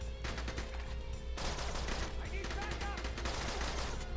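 Rapid bursts of gunfire from The Bourne Conspiracy video game, dense crackling volleys running throughout over constant game noise.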